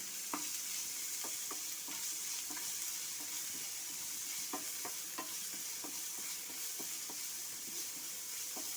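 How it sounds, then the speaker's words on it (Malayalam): Sliced onions, green chillies and curry leaves sautéing in oil for a Kerala-style onion curry, a steady close sizzle with regular scraping stirs of a spoon against the pan and no talk. "പച്ചമുളക് കുറച്ച് കറിവേപ്പില ഇനി നമുക്കിത് നല്ലതുപോലെ ഒന്ന് വഴറ്റിയെടുക്കണം നല്ല ബ്രൗൺ കളറാവണം"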